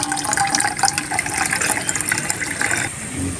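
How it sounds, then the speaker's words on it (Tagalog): Water poured into a cooking pot to boil jackfruit: a continuous, fairly loud splashing stream filling the pot up close for a few seconds before easing off. "Lagyan po natin ng tubig pang ilaga sa langka"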